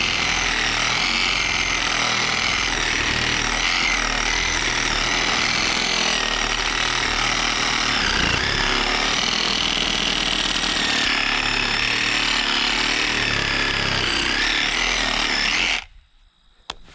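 A power tool cuts steadily through a piece of wood at close range, a loud continuous grinding whine that holds for about sixteen seconds, then stops abruptly, leaving brief quiet.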